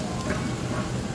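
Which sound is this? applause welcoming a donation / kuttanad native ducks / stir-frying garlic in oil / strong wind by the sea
stir-frying garlic in oil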